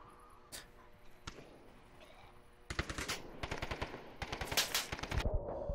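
Gunfire in the VR shooter Onward: a few isolated sharp shots, then a dense rapid burst of automatic fire, loud and close.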